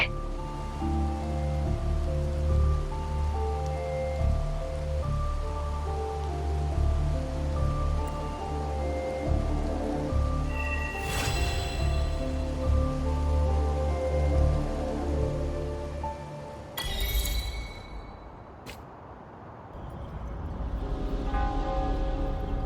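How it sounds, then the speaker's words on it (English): Steady rain patters and hisses over a low hum in the video game Wuthering Waves, continuing for a long stretch before a few sharp clicks and a fading wash of noise. "This rain, it's finally happening."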